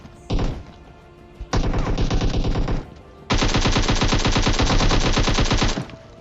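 Automatic gunfire in the mobile battle royale PUBG Mobile arrives as three loud, close bursts: a short opening rattle, a longer spray, then a sustained stream of shots lasting over two seconds.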